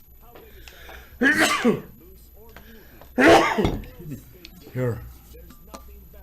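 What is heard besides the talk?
sneeze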